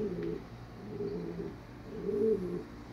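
Pigeon cooing close by, a high flyer breed, in three soft, rounded coos spaced about a second apart, with no other sound in the gaps.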